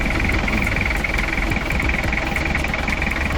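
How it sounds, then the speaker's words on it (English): Toyota Land Cruiser LJ78 with a 5L engine running steadily up close, a loud continuous rumbling drone with a constant rattling churn throughout. "Someone told me once that the engine sounds like the sound of boiling water."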